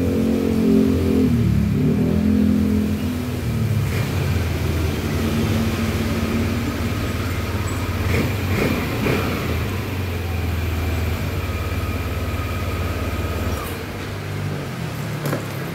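A Yamaha Lexy scooter engine idles steadily, its low rumble running throughout with a brief rise near the start and a few clattering bursts midway.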